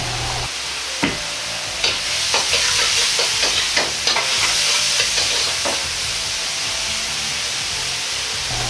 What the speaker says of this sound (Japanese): 焼いた麺を入れ、絡めて炒めます。